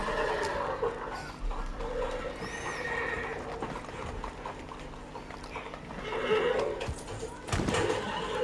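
Horses fighting in Red Dead Redemption 2, with loud repeated neighs and whinnies and shuffling hoof clops against a steady game background, rising to sharper squeals near the end.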